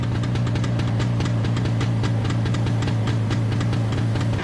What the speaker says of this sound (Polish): Ale ładnie silnik jawy pracuje